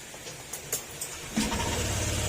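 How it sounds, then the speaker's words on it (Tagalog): A Honda Click scooter engine cranks with a few quick clicks, then catches and settles into a steady low idle, close by. "Hindi mo na kailangan pindutin yung post starter para mag-start yung makina."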